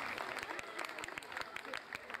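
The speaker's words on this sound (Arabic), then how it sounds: "تصفيق على سلاح الدين عاد" Steady, fairly quiet applause from an audience at an end-of-year evening ceremony, with voices mixed in throughout.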